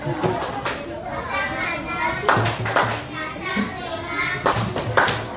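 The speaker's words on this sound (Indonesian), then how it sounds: "Semuanya tepuk fokus." Schoolchildren in a classroom perform the rhythmic "tepuk fokus" clap routine, sharp bursts of group clapping in sets, interleaved with their chanting voices and light chatter nearby.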